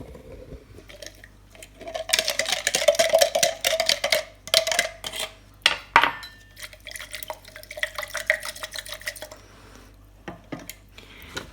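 Hot water trickles and splashes into a glass jar to melt sugar for cured pork belly, in close, irregular bursts with small clinks of glass.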